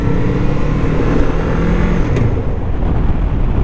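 A motorcycle engine runs continuously while being ridden, a loud, close, steady drone with slight fluctuations in pitch and no speech over it.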